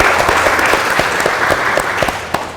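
Audience applause at a televised hospital forum in Banyuwangi, a steady wash of clapping that holds for the whole stretch at close, fairly loud level with no talk over it.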